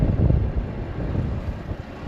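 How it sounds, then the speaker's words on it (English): Steady wind buffeting a microphone out in an open hay field during second-cut mowing, a dense low rumble with gusty swells throughout and no voices. "hopefully you can hear me with the wind. It's very windy"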